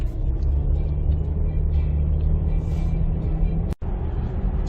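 A 2020 Ford Explorer XLT on Hankook Kinergy GT H436 all-season tires, size 255/65, gives a steady, loud low road rumble from inside the cabin for the whole stretch, broken only by a brief dropout near the end.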